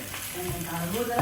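Food sizzles in a frying pan while it is stirred, a short close stretch of steady frying hiss with light scraping, and a voice talks faintly underneath.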